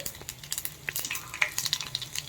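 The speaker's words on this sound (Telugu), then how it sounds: "ఆవాలు అండ్ జీలకర్ర. ఇవి వేగుతున్నప్పుడే" Mustard seeds and cumin fry in hot oil for gongura pappu, a close, crackling sizzle full of sharp pops and spits scattered irregularly over a soft hiss.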